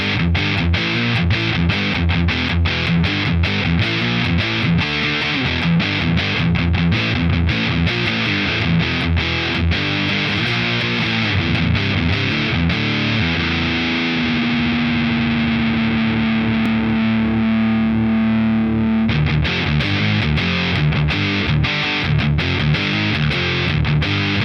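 Electric guitar played through a Boss HM-2 Heavy Metal distortion pedal into a Katana MKII amp, a thick, saw-like, heavily saturated tone, loud and continuous with sustained chords and chugging riffs.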